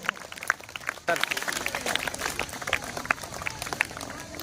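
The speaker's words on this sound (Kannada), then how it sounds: "ತಮ್ಮೆಲ್ಲರ ಕಳಕಳಿಯಿಂದ ಚಪ್ಪಾಳೆ ಬರಬೇಕು, ಇನ್ನೂ ಜೋರಾಗಿ ಬರಬೇಕು" Crowd applause at a school honouring ceremony, clapping that swells louder after a second and carries on steadily, with voices mixed in.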